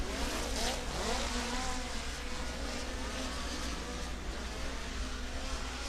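A POWRi midget race car tears down the front straightaway at Valley Speedway, a steady engine roar blending with dense crowd and track noise at a moderate distance.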